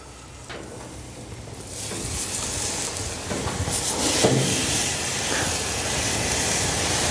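Meat sizzles on a JensenGrill griddle plate, a steady broadband hiss that swells louder partway through and keeps going, close and continuous with no talking.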